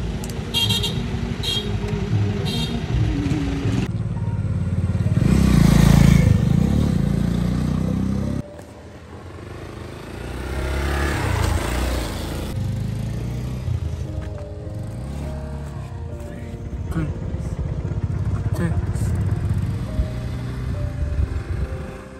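A single motorcycle carries four riders on a road in Makwanpur district, Nepal. Its engine drones steadily and loudly for about twenty seconds. The pitch swells around the middle as the bike speeds up, then settles, and traffic noise and an occasional horn toot sound nearby.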